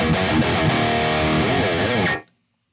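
A heavily distorted electric guitar chord, a hard rock/heavy metal tone from an Audio Assault RVXX v2 amp plugin, rings out loud and saturated, sustaining for about two seconds before cutting off abruptly.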